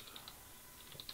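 Faint, quick keystrokes on a computer keyboard, scattered light taps near the start and a short cluster toward the end, with no talking.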